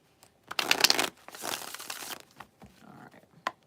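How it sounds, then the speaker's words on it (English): A deck of reading cards is shuffled close up, with a burst of crisp riffling and crinkling followed by softer rustles and a final sharp snap. "One more shuffle."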